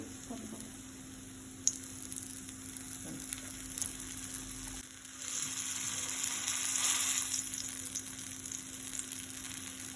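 Raw banana skewers fry in a pan over a medium-high flame, giving a steady, close sizzle that runs the whole time, with a few faint clicks and no speech.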